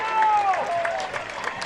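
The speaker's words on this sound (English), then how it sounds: "And another great ovation from the crowd" Crowd ovation at a San Diego Loyal versus Birmingham Legion football match as a substitute comes on, with steady broad applause under a commentator's talk.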